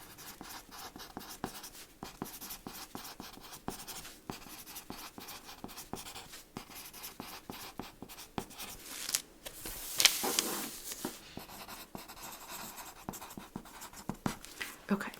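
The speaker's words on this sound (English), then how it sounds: "So I'm gonna just write this down." A pen or pencil writes an inventory list by hand on paper, steady faint scratching strokes with soft paper handling throughout, close and quiet, with a soft-spoken voice talking at moments.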